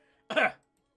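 A single short, breathy cough in RuneScape, close and fairly loud, followed by silence.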